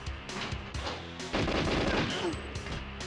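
Gunfire rings out on the Frigate level of the video game GoldenEye, with sharp repeated shots in quick bursts, loud and close, that build into a denser volley midway.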